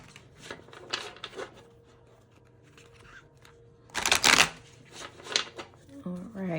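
Oracle card deck shuffled by hand in short riffling bursts, with a louder, denser shuffle burst midway, close and clear; a person talks intermittently around the shuffling.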